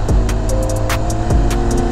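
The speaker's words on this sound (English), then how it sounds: "I'll try not to make too much racket though, as I rev in first gear" A motorcycle engine revving in first gear, a loud, close, continuous roar with rising and falling pitch sweeps and steady throb, no voices over it.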